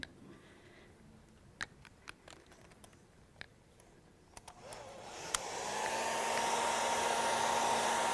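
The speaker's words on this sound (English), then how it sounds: "I'm doing the old hairdryer bit." Quiet room with scattered small clicks, then a hair dryer switches on to dry paint, blowing a steady, loud whooshing hum until the end.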